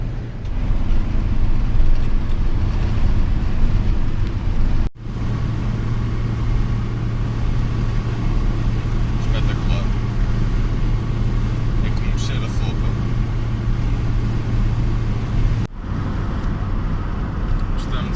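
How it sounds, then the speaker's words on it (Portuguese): Steady engine drone and road rumble from a Citroën BX cruising on a Portuguese motorway at about 120 km/h, a constant loud hum throughout with two brief dips. "É um carro em que se viaja melhor a 100, 110 a nível de ruído do motor."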